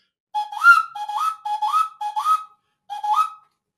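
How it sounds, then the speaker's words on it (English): A quail whistle, a bird-call instrument, played in five short chirping calls, each a quick rising two-note whistle, evenly spaced with a slightly longer gap before the last, clear and close with no talk. "similar whistles was a quail whistle"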